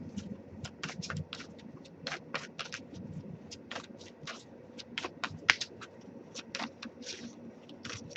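Rapid, crisp slaps and riffles of tarot cards being shuffled, repeated in short bursts over a soft low background rumble.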